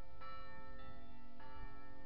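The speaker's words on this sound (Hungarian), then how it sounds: "azt hiszem elhallgat végre a harang" The church bell of the Kádárta Reformed church rings out in sustained, sparkling harmonic tones, with a few softer strikes blending into a lingering hum as it dies away.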